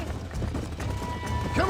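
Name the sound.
horses galloping in Red Dead Redemption video game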